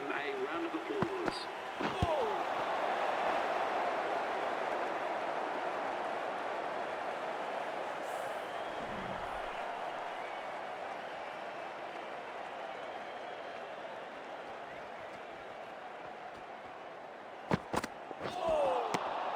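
Crowd at an IPL cricket match between KKR and RCB applauding a batsman coming in at number three, a broad, steady roar of applause and cheering that holds throughout, with a few sharp knocks near the start and end.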